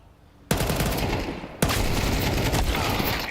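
AK rifle fire in a Counter-Strike match, a dense burst of automatic shots lasting a few seconds and fronted by one sharp crack, loud and sustained after a quiet start.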